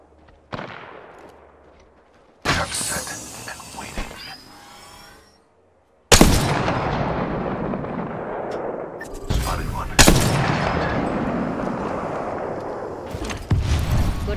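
Gunfire in the video game Apex Legends: several sharp, loud shots and bursts, each trailing off in a long echoing decay, spaced apart with brief silences between them.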